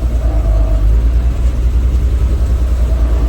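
A car on a test drive along a road gives a loud, steady low engine drone from inside the cabin, continuous and unchanging, with no speech.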